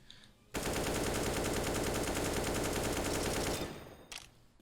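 An automatic rifle in CS:GO fires a sustained spray of about three seconds, a rapid, even stream of loud close shots that stops abruptly, followed by a brief faint clatter.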